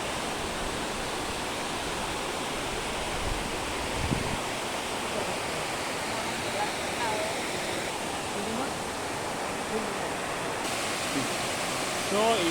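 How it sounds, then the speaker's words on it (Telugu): Thatiguda waterfall near Araku roars steadily throughout, a dense unbroken rush of falling water heard up close and loud, with no other sounds standing out. "ఇదండి ఈరోజు మన తాటిగూడ వాటర్ ఫాల్స్ అరకు దగ్గర"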